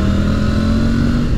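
Triumph Tiger 900 Rally Pro motorcycle, 2023 model, engine droning steadily with a throaty airbox note, close and loud, a continuous hum without pauses or voices.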